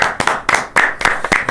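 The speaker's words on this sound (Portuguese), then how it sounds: "De forma imparcial, bato palmas aqui" One person claps hands about six times in a loose, uneven rhythm, each clap sharp and close, with no other sound.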